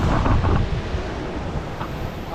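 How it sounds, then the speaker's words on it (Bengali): Hirni waterfall in Jharkhand, a steady broadband rush of falling water that blends with wind buffeting the microphone, loud and continuous without a break. "আমার ব্যাক সাইডে আপনারা দেখতে পাচ্ছেন ঝাড়খণ্ডের অন্যতম একটি সুন্দর ঝর্ণা হিরণি ঝর্ণা"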